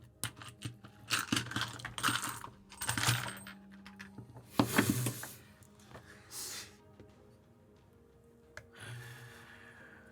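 A coin flicked and dropped onto a table during a tabletop role-playing game session, giving several sharp metallic clinks and a ringing spin-down, with soft tapping and handling noises in between and no talk.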